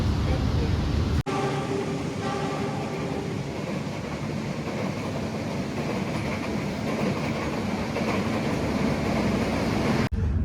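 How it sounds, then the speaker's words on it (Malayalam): An Indonesian economy class night train from Solo to Jakarta rolls steadily along the rails, a loud, continuous rumble heard from inside the carriage, with a brief jolt near the start and another near the end. "അങ്ങനെ ട്രെയിനിൽ യാത്ര ആരംഭിച്ചു"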